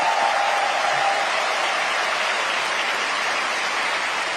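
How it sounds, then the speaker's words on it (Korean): Sustained applause from a church congregation during a Sunday morning worship service, a dense, steady wash of clapping that holds at full volume for the whole stretch, with no pauses or talk over it. "이쯤 되면 박수 한번 해주셔야죠."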